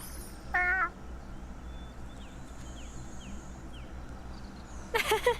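A cat meows twice in the Wylde Flowers farming video game, a short harmonic call near the start and a brighter, louder one at the end, over quiet game background music with soft chirps.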